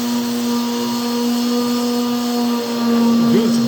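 A small mouse sander whirs steadily against a kayak deck, a sustained close motor hum with a slight pitch wobble near the end.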